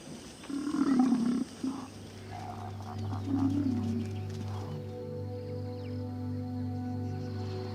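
Male lions in Kenya's Lake Nakuru area let out deep, rumbling roars, with two strong calls near the start followed by lower grunting trailing off, fairly close and loud over a steady background drone.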